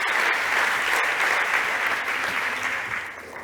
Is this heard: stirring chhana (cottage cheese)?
no